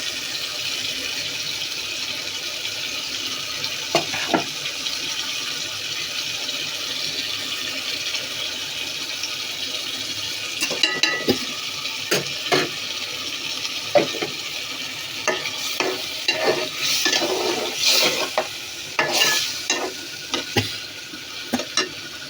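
Tomato, potatoes and garam masala stirring and frying in a pan, a steady low sizzle with scattered scraping clicks of the spoon that grow busier toward the end, close and without talk.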